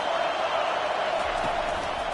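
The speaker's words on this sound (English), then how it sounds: "Listen to this crowd." Steady roar of a stadium crowd in a college football video game, a loud, continuous wash of cheering with no breaks.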